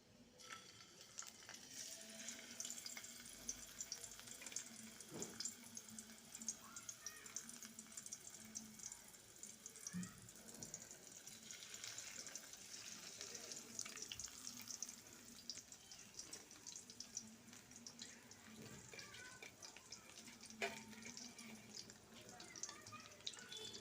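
Koi fish dropped into hot mustard oil in a wok, with turmeric and salt, frying with a steady hissing sizzle and faint crackle throughout, fairly quiet and continuous.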